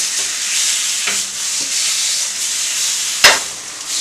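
Filet mignon searing in a hot pan, a steady hiss of sizzling fat with a few soft knocks and one sharp clank of the pan or utensil near the end.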